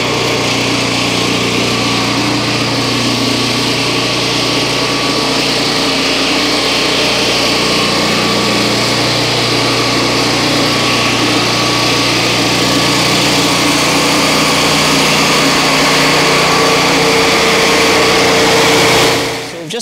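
A small chainsaw engine drives a Turbosawmill as it skims the face of a log, a loud, sustained high-pitched whine running steadily throughout before cutting off abruptly at the very end.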